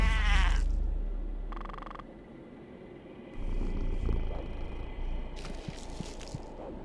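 Cat purr in the indie rhythm-platformer game The Shaman's Ark, a soft low rumble running for several seconds beneath game music, with a brief bleat-like tonal call partway through.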